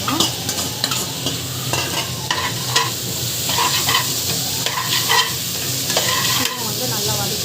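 Tomato stirred and sautéed in a pan for dhaba-style mushroom biryani: steady scraping stir strokes over a continuous close sizzle of frying, loud and unbroken, with no talking.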